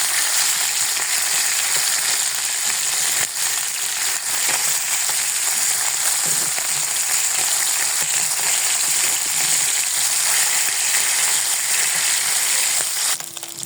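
Faisha fish frying hard in a pan, a loud, steady, dense sizzle and crackle of hot oil that runs unbroken throughout, with no talk over it.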